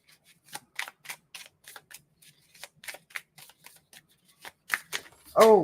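A deck of brand-new, stiff playing cards is shuffled and riffled close by, giving a run of crisp papery flicks and snaps in uneven bursts, ending with a louder rustle.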